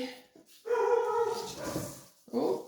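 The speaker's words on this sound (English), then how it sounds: "lovely dogs barking in the background" Dogs barking nearby, a couple of sharp yelping barks and whiny tonal yips in quick succession over under three seconds, loud and close.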